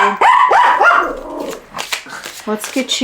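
A dog barks several times close by, sharp yips mixed with a low growl, the barks coming in quick uneven bursts.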